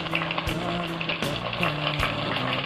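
Tofu frying in a pan as the pieces are turned over to cook their other side. A continuous close, crackling sizzle runs throughout, with a few soft knocks from the pan and a faint steady tone in the background.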